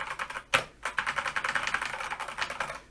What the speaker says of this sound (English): So if I press a key on the keyboard, you can see that the microcontroller is receiving it.